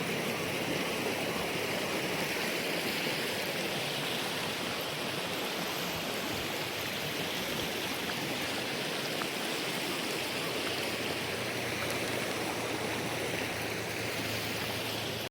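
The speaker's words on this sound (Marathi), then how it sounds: "खळखळ खळखळ खळखळ हे पाणी वाहते" Continuous rushing and babbling of Narmada river water, a steady broadband wash that stays even and fairly close throughout, with no voices.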